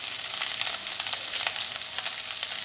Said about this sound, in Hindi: इसे गलाने के लिए हम डालेंगे इसमें पानी,